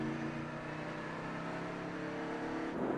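A pack of 32 ARCA stock cars at Charlotte Motor Speedway droning steadily as they pick up speed, a smooth sustained engine roar from inside the car that builds slightly toward the end.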